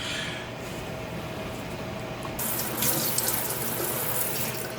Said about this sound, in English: Just ran my knife under hot water